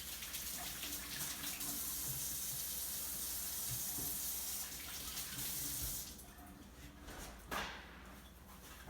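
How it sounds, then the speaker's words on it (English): A kitchen tap runs while hands are washed under it, a steady close rush of water for about six seconds before it is shut off, leaving quieter room sounds and a brief clatter. "I'm gonna wash my hands."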